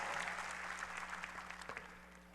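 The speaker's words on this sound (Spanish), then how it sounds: "Démosle un aplauso a esos que hicieron esa labor de traer el mensaje para que nosotros lo conozcamos." Church congregation applauding during a sermon gathering, quiet and distant clapping over a low steady hum, thinning and fading toward the end.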